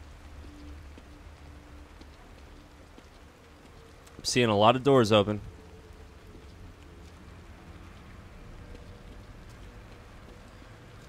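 Continuous rain hisses through a scene in the horror video game The Evil Within, a steady wash of drops behind a brief spoken line from a man in the middle.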